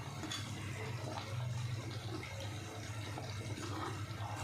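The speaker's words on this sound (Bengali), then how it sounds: "একটু জল দিলাম যাতে আলুটা তো সেদ্ধ হবে," Water running and splashing into a cooking pot to boil new potatoes, a steady continuous pour heard close up with no talking.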